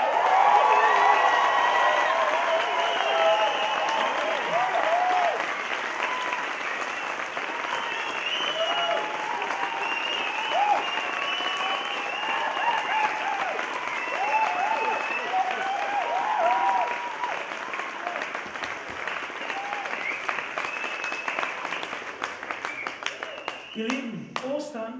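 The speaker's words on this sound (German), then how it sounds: "Was haltet ihr davon, wenn wir jubeln, klatschen, was ihr könnt, für Jesus" A congregation at an Easter church service cheers and claps, with a dense, sustained roar of applause and voices that holds for about twenty-five seconds before thinning out near the end.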